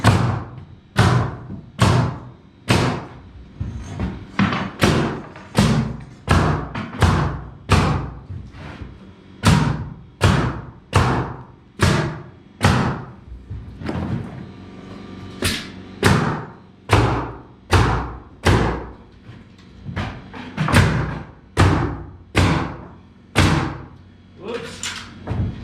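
Nails hammered into wood during carpentry framing work, a long run of loud, evenly spaced heavy blows, roughly one per second, repeated steadily for the whole stretch.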